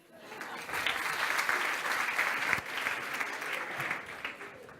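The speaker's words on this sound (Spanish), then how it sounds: "Genial, un aplauso." An audience at a talk applauds for about five seconds in a steady, dense wash of many hands clapping. It swells quickly, holds at a moderate level and fades briefly at the end, with no voices on top.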